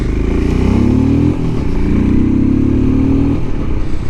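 A Royal Enfield Himalayan motorcycle with a newly fitted air filter pulls away, its loud, close engine note climbing steadily through revs with a brief dip at a gear change, no talking.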